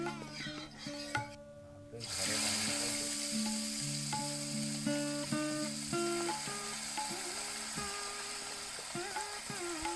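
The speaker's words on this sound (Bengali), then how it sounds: "1 টেবিল চামচ সরষের তেল গরম করে মাখিয়ে রাখা মাছগুলো সব ভেজে নেব।" Marinated pakal fish (eel) frying in a tablespoon of hot mustard oil in a kadai, a steady loud sizzle starting after a brief quieter moment and continuing throughout, with music playing over it and no talk.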